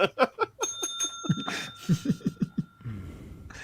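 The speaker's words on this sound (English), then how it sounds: "That was just a celebration bell ring." A celebration bell rings with a few sustained bright tones partway through, close and clear, surrounded by talk and light laughter in a casual fantasy football discussion.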